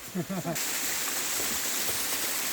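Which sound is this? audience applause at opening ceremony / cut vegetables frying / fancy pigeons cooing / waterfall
waterfall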